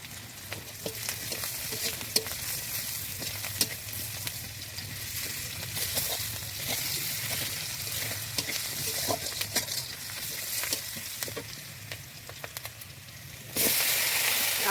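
Onion, chili and mixed vegetables fry in a pan with a dense, steady sizzle and crackle, close and continuous, with occasional clicks of stirring and a louder burst of hiss near the end.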